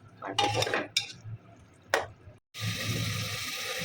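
Keema biryani mixture of minced meat being stirred in a pot, with several sharp scrapes and clinks of a metal spoon against the pot, followed by a steady wash of running water or hiss.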